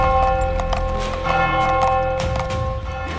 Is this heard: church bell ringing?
yes